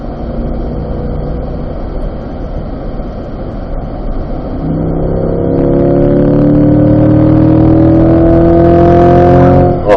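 A race car engine on a track session holds a loud, close rumble, then revs up in rising, overlapping sweeps as the car accelerates, growing louder toward the end.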